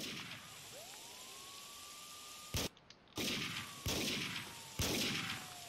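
Sharp gunshots in the Max Payne 2 video game, four loud separate cracks spaced roughly a second apart after a quiet stretch of faint hiss and a distant whine.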